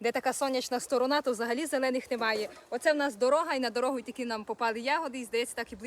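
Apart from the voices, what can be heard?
No everyday noises stand out.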